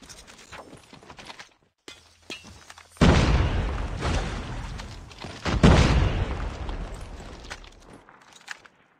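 A heavy boom of a frag grenade going off in a first-person shooter game, loud and close, followed by a second blast a couple of seconds later amid scattered gunfire and game noise.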